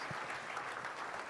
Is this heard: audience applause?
yes